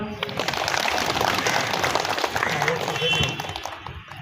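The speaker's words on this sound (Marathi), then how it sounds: "टाळ्या वाजवा." Applause from a school audience at a Maharashtra Day event fills the whole stretch, a dense steady crackle of many hands clapping that fades slightly near the end.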